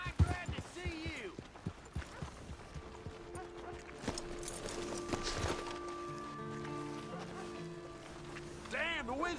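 Horse hooves clip-clopping in Red Dead Redemption 2 under frequent voices, the rhythmic clopping clearest near the start before the talk takes over, plus a faint steady hum in the background.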